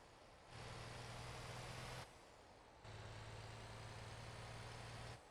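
Delivery trucks arrive with goods, their engines rumbling in two steady, low idling stretches separated by a brief drop, heard at moderate distance with no talk.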